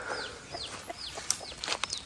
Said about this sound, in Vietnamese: có một con gà mẹ mà nuôi đúng một con này